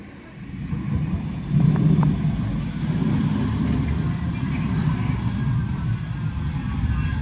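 A Manchester tram rolling along, a steady low rumble that swells after a quiet start and holds at a constant level, with voices faintly under it.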